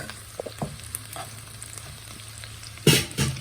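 Minced mutton keema frying in a pan for biryani, a close sizzle with a few scrapes of stirring and a louder stir near the end, no talking.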